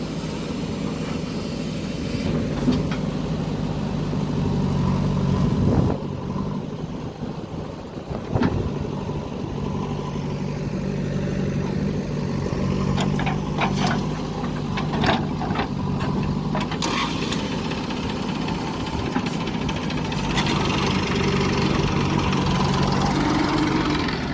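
A tractor and a JCB excavator digging a farm pond, their engines running steadily throughout with a continuous low rumble, faint knocks and clanks from the work breaking through now and then.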